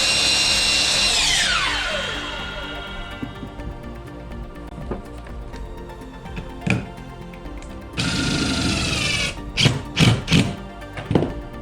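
A power drill drives screws into a wooden shelf, with a loud whirring burst that winds down. Taps and knocks follow, then a second drill run and more short bursts close by.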